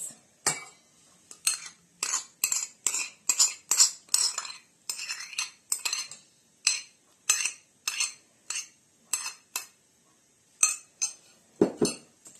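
A utensil stirring mayonnaise into a filling for a cheese roll with minced meat, making a quick run of sharp clinks and scrapes against the bowl, then a few slower, spaced strokes, close and fairly loud with no talking.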